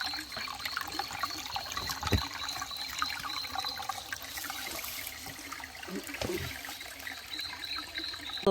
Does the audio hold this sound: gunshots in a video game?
no